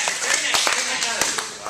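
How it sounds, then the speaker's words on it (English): A classroom group breaks into brief applause, scattered claps rattling close by while students' voices chatter over them. "they're already giving you a round of applause."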